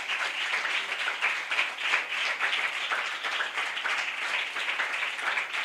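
A church congregation claps steadily and continuously, a dense, even patter of many hands heard from a moderate distance, with no break or talking.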